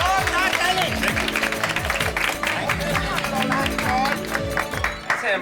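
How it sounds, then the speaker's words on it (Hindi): A studio audience claps loudly in a sustained burst while music and voices carry on underneath. "एक बार जोरदार ताली हो जाए"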